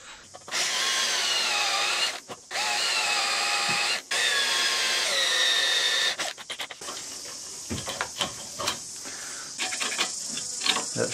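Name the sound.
drilling holes in mast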